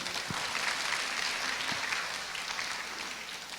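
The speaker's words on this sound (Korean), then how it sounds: "다시 한번 박수." A high-school church congregation applauds after a testimony, a soft, steady roll of many hands clapping in a large room, fairly distant and without talk.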